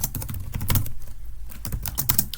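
Irregular bursts of clicky keystrokes on a computer keyboard, fairly close and moderately quiet, with a brief pause midway before the tapping resumes.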